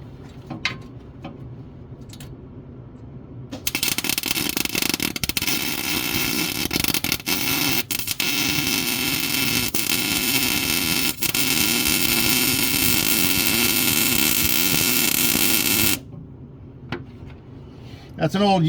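MIG welding along an old Jeep frame, the heat burning off 1990s undercoating: a loud, steady crackling hiss runs unbroken for about twelve seconds, with quieter shop noise and a voice before and after.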